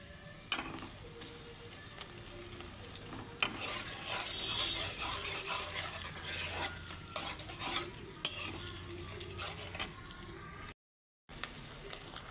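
Chopped onion and ginger-garlic paste fry in a pan for bottle gourd chicken, with a soft oil sizzle under repeated scraping and clinking stirs of a spatula in bursts, fairly quiet and close, with a brief dropout near the end.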